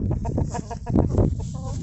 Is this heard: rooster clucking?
yes